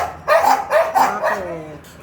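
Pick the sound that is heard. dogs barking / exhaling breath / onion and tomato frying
dogs barking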